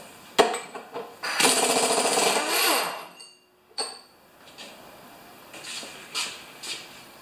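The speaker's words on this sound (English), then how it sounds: "now we need a 3/4 inch socket for the air gun" An air impact gun fitted with a 3/4 inch socket works on a Craftsman 6.5 HP Tecumseh mower engine, giving a loud close rattling burst for about two seconds, followed by a few short knocks and clanks.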